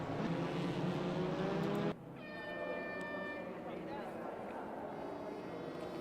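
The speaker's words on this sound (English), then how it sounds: "Can already hear heating up the brakes on our acceleration." TCR touring race cars on track during an Asia 100 endurance race, a loud sustained engine roar that drops abruptly partway through as the car brakes, then settles into a lower whining drone, with commentary over it.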